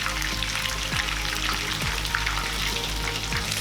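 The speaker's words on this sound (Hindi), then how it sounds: "तो इस तरह से अभी हम इसको सबको फ्राई कर लेंगे।" Food sizzling and frying in a pan for a Chinese-style home meal, a steady crackling hiss with scattered pops and spits, moderately close and with no talk.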